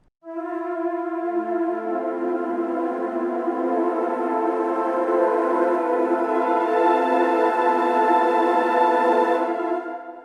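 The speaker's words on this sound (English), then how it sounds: "play a little bit with the fluted tongue and mix a couple of trills into it." An 8Dio Majestica woodwind ensemble sample library plays sustained notes with flutter tongue and trills, a dense, fluttering, layered texture held steadily for about ten seconds before releasing.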